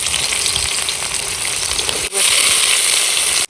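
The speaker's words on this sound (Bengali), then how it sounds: "তেল দিয়ে দেবো তেলের ভিতরে তেজপাতা শুকনো লঙ্কা আর এই যে গোটা গরম মশলা দিয়ে দেবো পেঁয়াজ দিয়ে দেবো" Onion, bay leaf, dried red chilli and whole garam masala sizzle loudly in hot oil, a steady dense frying hiss that briefly dips then surges louder as more goes into the pan; no talking.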